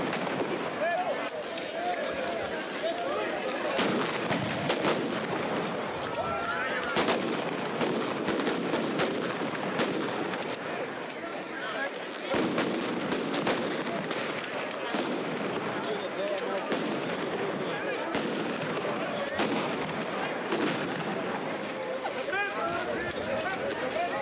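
Gunfire and crackling shots ring out continuously at a Slivnitsa battle reenactment with authentic period uniforms and weapons, a dense, distant barrage of irregular bangs under crowd chatter.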